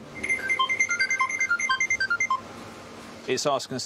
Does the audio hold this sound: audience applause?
no